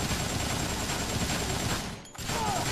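Gunfire from soldiers in the video game Dead Rising, a dense, sustained burst of automatic shots with a brief gap near the end before the firing resumes.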